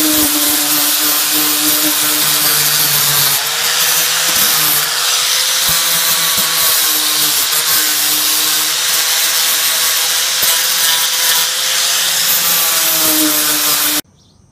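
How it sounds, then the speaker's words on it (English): A 60 grit flap disc on a power grinder sands a houseboat holding tank, giving a loud, steady whining roar with a gritty abrasive hiss that runs nearly unbroken for about fourteen seconds before cutting off abruptly. "I'm just gonna sand it, clean it up, and get it flat. This is a 60 grit flap disc."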